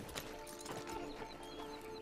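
Horse hooves clip-clop in a steady rhythm, ridden in the western video game Red Dead Online, with game ambience and music tones running underneath throughout.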